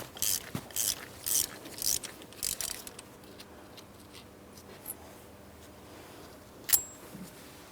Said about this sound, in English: To remove the spark plug, use a 5/8 spark plug socket.